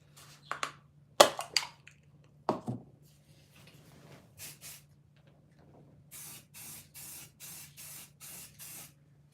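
An aerosol can hisses in short bursts, first a few sharp irregular sprays, then a steady series of about seven evenly spaced puffs, close by.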